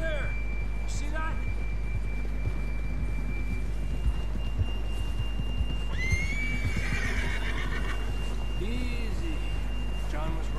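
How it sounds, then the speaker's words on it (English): A horse whinnies loudly a couple of times over a low steady background hum, with faint hoof clops and a voice briefly speaking, in Red Dead Redemption 2. "John was riding that horse when we left Blackwater."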